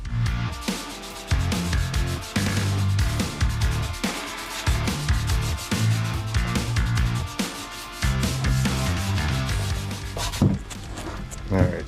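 Hand sanding on a Stanley Sweetheart No 7 jointer plane during restoration to a mirror finish produces a close, rhythmic series of rasping back-and-forth strokes with brief pauses between passes.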